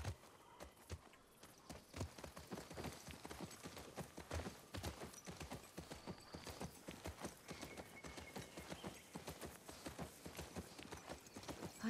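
Horse hooves clip-clop at a steady walking pace in The Last Of Us Part II video game, a continuous rhythmic stream of clear hoofbeats heard up close and fairly loud with no talking over them.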